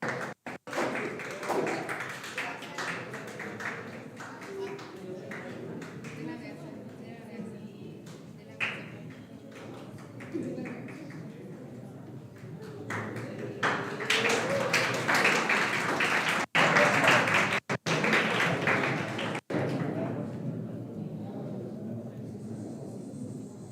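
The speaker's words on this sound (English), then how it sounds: "Round of applause for him, please." An audience at a TED-Ed style talk event applauds a speaker with dense, sustained clapping that swells louder toward the end, mixed with crowd noise and brief pauses.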